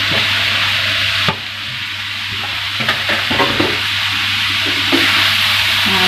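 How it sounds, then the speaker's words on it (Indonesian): Carrots and cabbage stir-fried in a wok for spicy stuffed tofu: loud continuous sizzling with repeated scraping and knocking strokes of the spatula, close up, and no talk. "Nah, ini kita tumis sampai matang ya."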